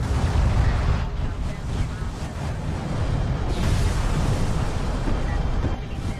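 A missile barrage pounds a base in a strategy video game, heard as a continuous heavy rumble of overlapping explosions under a commentator's voice.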